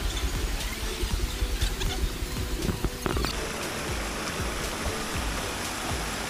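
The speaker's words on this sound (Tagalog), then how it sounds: "Dito pa lang sa lagaslas ng tubig na ito." The rushing water of Taytay Falls pours in a steady, dense roar, continuous and close, with some clattering texture early on that fades into an even wash.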